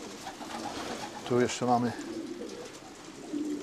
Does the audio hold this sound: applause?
no